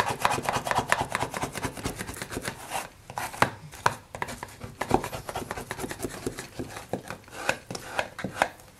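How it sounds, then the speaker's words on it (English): A chisel and the flat of a bone folder rub down the paper covering on a handmade box, pressing the edges flat. Brisk, close scraping strokes repeat steadily, with a short pause partway through. "And then I'll rub this down with the chisel and flat side of my folder, making sure all the edges are down."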